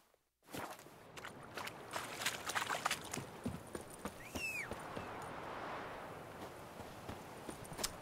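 Horse hooves in The Witcher 3: Wild Hunt clop along in a steady walking rhythm, fairly close, with a soft background ambience and a brief whistling tone midway.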